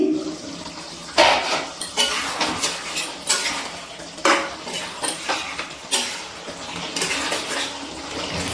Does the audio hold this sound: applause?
no